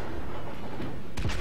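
A World of Warships ship under bombardment, with steady low rumbling explosions followed by a louder burst of booming impacts near the end.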